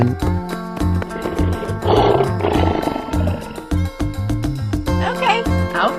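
A lion's deep, loud roar plays as a sound effect in an animal guess-the-door escape room game, over busy, rhythmic game music with steady beats.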